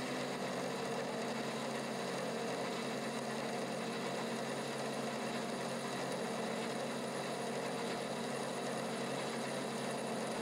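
A metal lathe turns a carburetor part with a steady, even mechanical hum and a fine buzzing vibration from the cut, constant and close for the whole clip with no talking.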